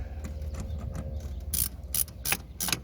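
A ratchet tightening an 8mm bolt while installing a cold air intake on a 2015 Camaro SS, with several quick clicking strokes in bursts, close and clear.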